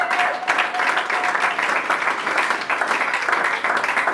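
A church congregation applauding the Lord fills the space with steady, dense clapping that stays loud and continuous throughout, with voices faintly mixed in.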